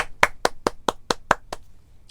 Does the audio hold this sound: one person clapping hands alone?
yes